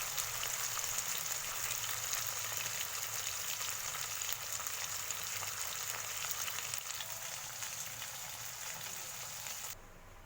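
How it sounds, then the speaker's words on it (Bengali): Pieces of fresh rohu-type fish frying hard in a pan of oil, a dense, even sizzle and crackle that holds steady throughout, close by with no talk. "মাছ ভাজা হচ্ছে।"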